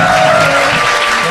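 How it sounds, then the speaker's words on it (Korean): A studio audience at a political talk show with two lawmakers gives a short, steady burst of applause, loud and close throughout. "박수 부탁드립니다"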